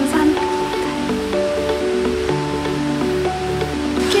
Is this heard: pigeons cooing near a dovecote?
no